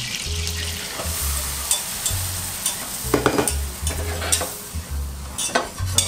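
Flour is stirred into melted butter in a saucepan to make a roux for béchamel, giving a steady rhythmic scraping stir over a soft sizzle, close and clear with no talking.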